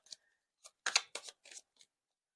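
Tarot cards being drawn and laid out: a handful of short papery snaps and slides in quick succession, close and fairly quiet, with no talk.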